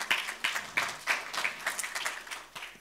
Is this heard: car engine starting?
no